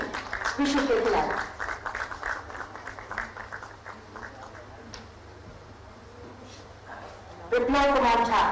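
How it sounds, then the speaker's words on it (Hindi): At a ceremony where athletes receive appointment letters from the Chief Minister, a crowd breaks into moderate, scattered clapping. A voice is heard before and after the clapping. "तालियां जोरदार"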